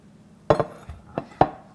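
A festive eggnog cake released from its pan onto a plate gives a few separate clinks and knocks of metal against crockery, close and fairly quiet, spread over a couple of seconds with no talking.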